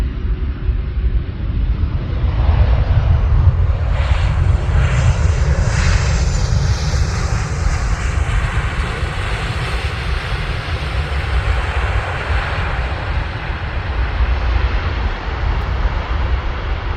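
Transavia airliner arriving from Greece and landing at Amsterdam Airport, a loud steady jet engine roar with broadband rumble that builds and holds close by throughout, no talking.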